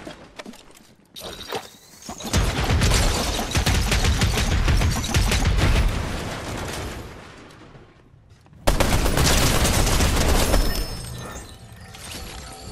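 Dense rapid video game gunfire rattles in long sustained bursts, loud and close, with a brief lull before another heavy volley.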